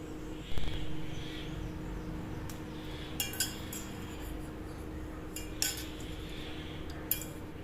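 Metal utensils clink and tap in scattered, light knocks over a quiet background while buffalo-milk cream is scooped from one vessel into another; no talk.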